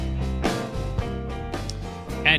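A brief stretch of fast New Orleans style piano backing track, full and rhythmic with steady chord hits and a bright bass line, played alone with no talking.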